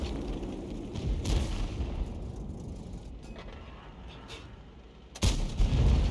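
Tank cannon firing HEAT rounds in a video game: a loud shot early on, a fading rumble, and another sharp heavy blast near the end.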